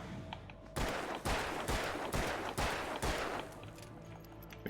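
Gunfire in the video game Alan Wake, about five evenly spaced loud shots fired at an enemy, each a sharp crack with a brief decay, close and prominent.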